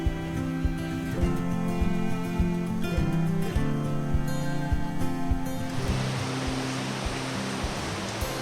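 Running river water in West Virginia makes a continuous broadband rush that grows brighter and fuller in the final few seconds, with no voices heard.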